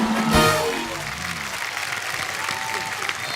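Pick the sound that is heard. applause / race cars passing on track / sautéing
applause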